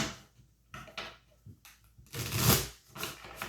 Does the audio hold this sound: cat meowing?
no